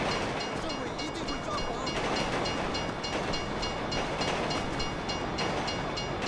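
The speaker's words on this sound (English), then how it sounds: "If you were local, you'd know the train comes by right now!" A train rumbling past in Grand Theft Auto V, a steady, dense clatter of rail cars that continues without letup at moderate volume.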